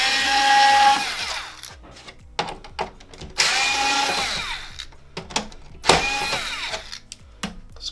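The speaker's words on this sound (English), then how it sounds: "There are 5 T8 screws. Simply remove all 5." A power screwdriver removes T8 screws from a PS4 power supply during an overheating fan repair, whirring in several short, loud bursts separated by brief pauses and quieter handling clatter.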